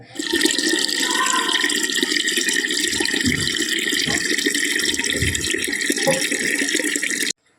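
Water runs steadily from a household tap as a container fills at home, a close, continuous splashing gush that holds level for several seconds and then stops abruptly.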